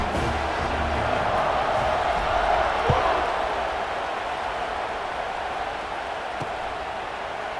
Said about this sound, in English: Night games are always so loud, so obnoxious